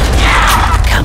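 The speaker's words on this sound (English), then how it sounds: "Big explosion, big success." A big in-game explosion in Call of Duty: World at War on the Der Riese zombies map, a sustained loud rumbling blast with crashing debris filling the whole second.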